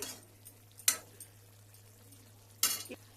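Spring onion chicken fry cooks in a pan, with soft background sizzle and two sharper scrapes of stirring against the pan bottom. The sound is close but quiet, with no talking.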